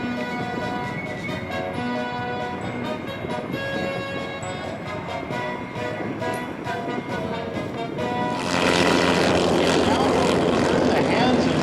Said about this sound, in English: Mike Steiger touching down now, the L-29 Delfin.